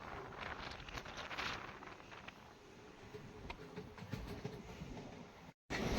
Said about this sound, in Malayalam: കുതിച്ചു പായുകയാണ് നമ്മുടെ ട്രെയിൻ